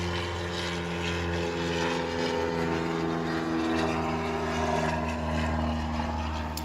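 Loud, steady droning of a propeller airplane passing overhead, a low humming roar that swells slightly and fills the whole stretch.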